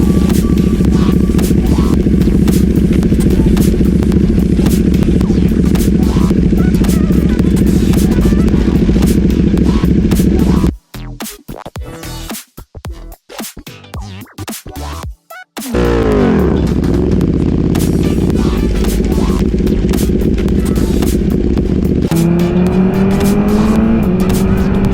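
A 2020 BMW S1000RR sportbike under way, its engine holding a loud, steady high-pitched drone with rising revs. The sound cuts out briefly in the middle and then returns as the engine accelerates through the gears.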